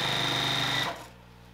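A sewing machine stitches quilt binding pieces together in a steady, fast mechanical whir that runs close and loud, then cuts off abruptly after under a second, leaving quiet room tone.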